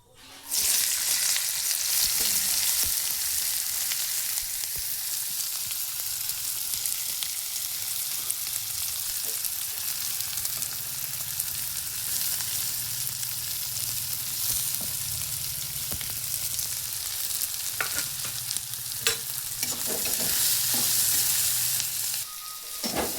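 Pieces of taro and potato fry in hot oil in a pan, giving a steady, dense sizzle that runs unbroken for over twenty seconds, with a few faint clinks of stirring near the end and no voices.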